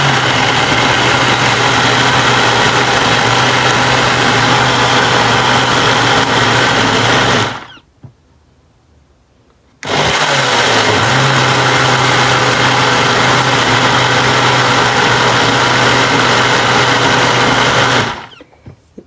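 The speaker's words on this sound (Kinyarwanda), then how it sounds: "Hanyuma dore ndi gusya ntashyizemo kugera." Electric machine grinding soybeans with water for soy milk, a loud steady high-pitched motor whine running about seven seconds, a brief pause, then another long run before stopping.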